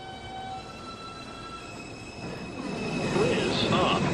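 A 2 subway train arrives at Lincoln Center station in New York City with a rising rumble and squealing wheels, close on the platform, alongside an automated announcement voice.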